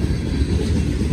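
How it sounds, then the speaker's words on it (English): A train rumbles past nearby as a steady, loud low-frequency roar that holds constant throughout with no voices. "Another train coming too."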